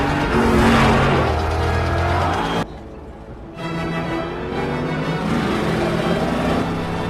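A car chase from the film The Mariner: loud engine roar and revving with music, a brief sharp drop in the middle, then driving noise resumes.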